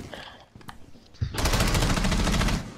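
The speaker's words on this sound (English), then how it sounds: "I've heard gunshots. Shots fired." Rapid automatic gunfire in the Rainbow Six Siege video game erupts loud and sustained after a second of quieter background sounds, close and continuous until the end.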